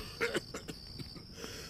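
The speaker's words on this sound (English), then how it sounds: "before this man stops coughing" A man coughs in the Dead Synchronicity video game, giving a few short, harsh, raspy coughs close by, followed by weaker throaty sounds.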